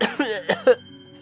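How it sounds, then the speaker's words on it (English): Three quick, close coughs in a row, each a short throaty burst, followed by quiet. "When I went to speak, discomfort rose in my throat and I coughed."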